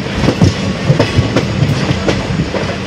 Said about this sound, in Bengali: দমদম স্টেশন ঢুকছে ট্রেন, দেখতে পাচ্ছ সামনেই দমদম স্টেশন